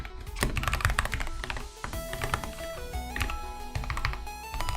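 Rapid typing on a new computer keyboard during coding work, with dense overlapping keystroke clicks and thunks. A steady tonal background runs beneath the typing, and no one speaks.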